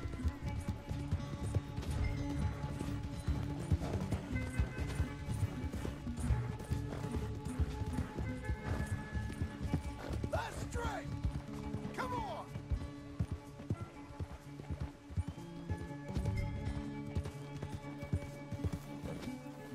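Quick rhythmic hoofbeats of a galloping horse in Red Dead Redemption 2 run under a layer of background music, with creaks and clatter mixed in.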